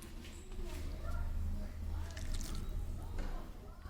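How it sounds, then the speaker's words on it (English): Milk is poured into multiflour cookie dough, giving soft wet drips and squishy liquid sounds close by, with a voice talking over them. "So now I'm adding my milk"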